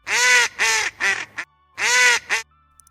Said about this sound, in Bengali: এ হলো হাঁস। সবাই বলো হাঁস। হাঁসের ডাক